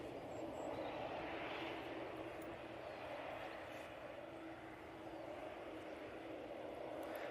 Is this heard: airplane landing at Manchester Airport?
yes